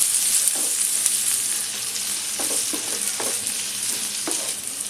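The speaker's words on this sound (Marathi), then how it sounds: "आता हा कांदा चांगला आपण परतून घेऊया." Chopped onion sautéing in hot oil with mustard seeds and curry leaves in a pan, cooked for a raw banana bhaji: a steady, bright sizzle throughout, with occasional soft scrapes and knocks from stirring close by.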